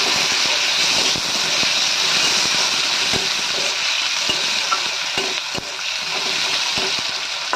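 Chopped onion fries in a pan with a steady, dense sizzle throughout, broken by occasional clicks and scrapes of stirring.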